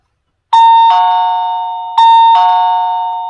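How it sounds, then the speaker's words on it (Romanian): A digital door viewer's doorbell rings twice, each ring a loud, clean two-tone electronic ding-dong chime that decays slowly, with brief silence before the first ring and no talking. "Cineva sună la ușă."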